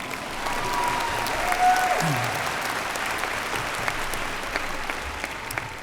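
An audience applauds at a university commencement ceremony, a steady, sustained wash of clapping filling the hall for several seconds, with faint voices and a brief whistle-like tone in the background.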